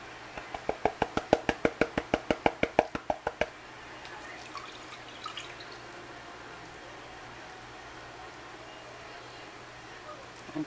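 Water in a gold pan while crushed Yooperlite paydirt is panned, heard as a quick run of about twenty sharp, evenly spaced sloshing pulses over roughly three seconds, then only faint background.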